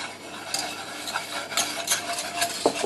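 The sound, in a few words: whisking sunflower oil and flour for béchamel roux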